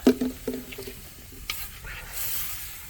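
Cream sauce made with a whole bottle of cream is stirred in a pan over the heat, giving a few quick scraping strokes followed by a soft, faint sizzle.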